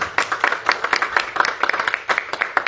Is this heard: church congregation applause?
yes